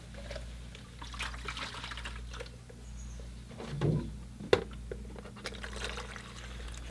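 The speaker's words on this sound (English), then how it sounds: "So I'm just filling up my water pail. I'm using a large water pail here." Fresh water running into a large pail, a soft continuous trickle and pour with a couple of sharper splashes near the end, faint and without talk.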